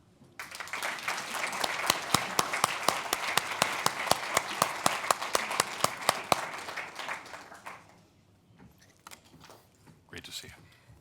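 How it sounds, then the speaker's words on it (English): Audience applause welcomes General John Allen onstage at the GLOBSEC 2016 conference, a dense burst of clapping lasting about seven seconds before fading into scattered claps and brief murmuring. "I would like you to share with me an applause to welcome General"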